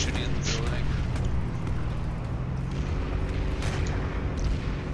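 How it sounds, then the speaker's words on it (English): Planetside 2 battle at a building: a steady, dense bed of low booming explosions and gunfire runs throughout with a few sharper cracks on top, and people talk over it. "They're just shooting at the building."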